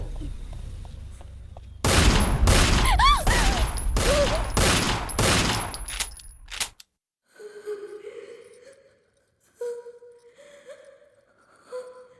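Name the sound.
gunfire in a Hindi film scene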